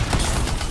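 A grenade blast in the video game Anthem, set among enemy scar hives, a short, loud, dense burst of rumbling, crackling noise with sustained low-end energy.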